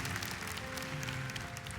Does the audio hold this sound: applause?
yes